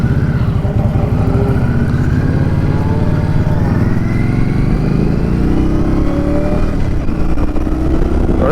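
A 2023 Indian Scout Rogue motorcycle accelerating from the rider's seat, its engine droning loudly and steadily with rising pitch through the gears, wind rush beneath and no talk.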